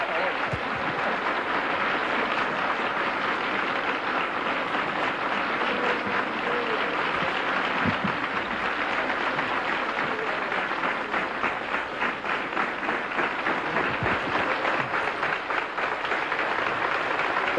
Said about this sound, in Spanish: Vamos a recibir con un fuerte aplauso una sorpresa.